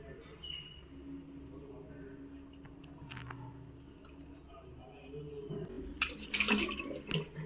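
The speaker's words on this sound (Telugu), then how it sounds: "ఫస్ట్ ఇక్కడ సెటప్ ఇలా ఫేస్ వాష్ యూజ్ చేస్తున్నాను" Water splashes and squishes as a face is washed with face wash at a sink, soft wet rubbing and dripping close by, ending in a louder burst of splashing.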